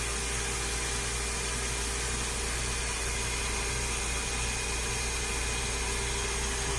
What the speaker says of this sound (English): Shut down our vacuum.